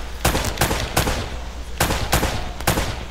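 Enemy machine gun fire in Uncharted 4 comes in loud, close, rapid bursts, roughly six sharp volleys in quick succession with brief gaps between them and no talk.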